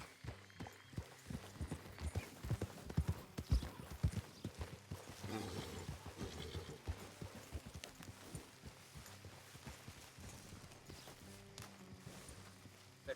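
Horses walk along a road in the video game Red Dead Redemption 2, their hooves clip-clopping in an uneven, close rhythm at low volume, with soft thuds and a quiet ambient bed but no talk.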